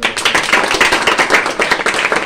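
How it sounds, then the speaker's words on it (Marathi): A group claps enthusiastically at a team birthday party, a dense rapid patter of hands that stays loud and steady throughout with no voices over it. "परत एकदा सर्वांनी जोरदार टाळ्या"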